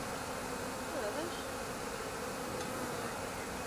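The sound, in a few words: honeybee swarm buzzing on a shrub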